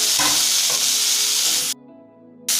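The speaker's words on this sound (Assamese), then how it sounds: "অলপমান টাইম মই ভাজি ল'ম ভালকৈ।" Chopped onions and tomatoes for egg curry sizzle steadily in a hot pan, a bright continuous hiss with a few stirring scrapes, before the frying cuts out abruptly and then resumes.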